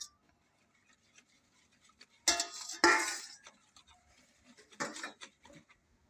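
Kadhi batter is stirred by hand in a bowl, giving a few quiet scraping and clinking strokes in short bursts separated by near silence, with no talking.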